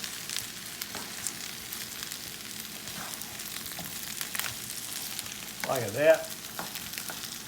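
Fried potatoes and onions sizzle steadily in a pan while being stirred, a soft continuous crackle with a louder scraping swirl near the end and a brief spoken remark.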